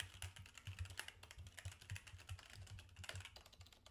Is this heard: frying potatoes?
no